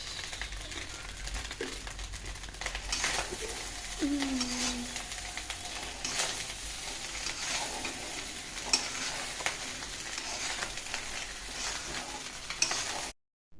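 Rice stir-fries in a pan with a little soy sauce added, giving a steady sizzle with scraping stirs and occasional clinks throughout, close and moderately loud.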